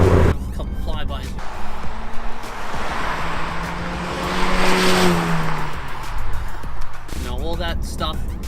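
Turbocharged Cadillac ATS with a muffler delete passing by outdoors, a loud raspy exhaust swelling as it approaches and fading away, with a rising and falling engine note and steady road and wind roar throughout.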